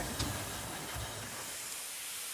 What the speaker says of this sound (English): This locomotive behind me,